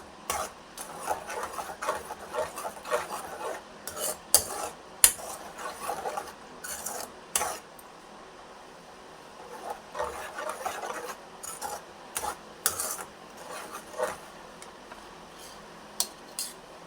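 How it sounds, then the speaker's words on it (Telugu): Kesari with melted sugar is stirred in a pan, giving irregular scraping and clinking strokes of spoon on metal in short bursts with quiet gaps, close by and without speech. "బాగా కలుపుకోవాలి."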